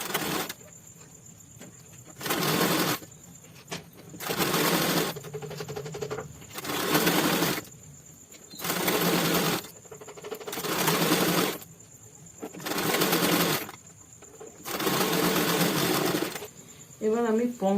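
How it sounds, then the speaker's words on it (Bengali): Sewing machine stitching a kaftan kurti, running in repeated bursts of about a second or two with short pauses between, loud and close with no talking. "এবার আরেক দিকের পোর্শনটা সেলাই করে দিয়ে দেবো।"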